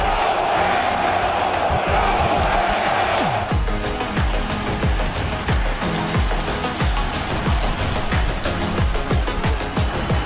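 A stadium crowd of 8,500 at a 2020 Tampa Bay Buccaneers football game roars loudly and continuously, a dense wall of cheering and shouting held for about ten seconds.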